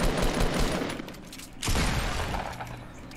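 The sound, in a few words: gunfire in the video game Fortnite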